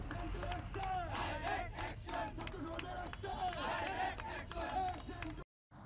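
Protesters on a street march chant slogans against killings, extortion and terror, a dense crowd roaring in loud rhythmic bursts of massed voices that carry on steadily before cutting off abruptly.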